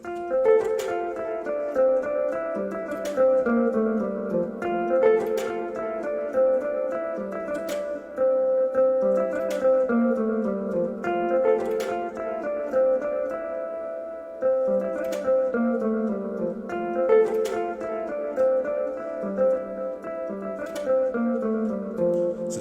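Makossa seben praise keyboard pattern with pitch bend, played alone as a continuous looping melodic riff with regular percussive accents and sliding notes, steady and mid-level throughout.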